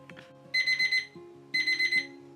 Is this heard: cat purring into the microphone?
no